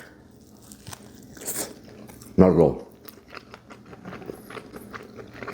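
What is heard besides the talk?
biting and chewing pastrami from Katz's Deli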